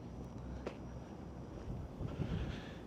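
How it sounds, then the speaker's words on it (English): Wind gusts along a downtown city street on a frigid winter day, a steady blustery rush against the microphone that swells louder toward the end. "the wind just kicked it up a notch"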